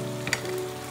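Chicken pieces fry in a pan with a continuous close hiss and crackle, plus a brief stirring clatter partway through.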